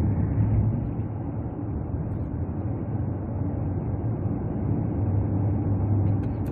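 Steady low engine drone from inside a Kia car pressing on the accelerator on the road, continuous and even with a brief hum at start and end, no voices.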